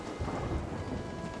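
A thunderstorm in the pirate game Sea of Thieves: a deep, steady rumble of thunder rolls under a continuous wash of heavy rain, loud and close, with no voices.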